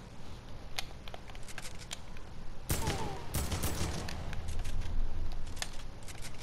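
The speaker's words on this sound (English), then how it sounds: "Shoots pretty slow for an assault rifle." Assault rifle fire in the video game Fortnite comes as a loud, fairly slow string of shots around the middle, set among scattered clicks and quieter game sounds.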